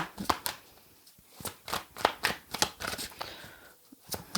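A deck of tarot cards is shuffled by hand at close range, giving a rapid run of crisp riffling bursts and soft slaps in an uneven rhythm, with no speech.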